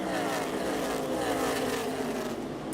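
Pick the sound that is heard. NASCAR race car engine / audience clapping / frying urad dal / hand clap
NASCAR race car engine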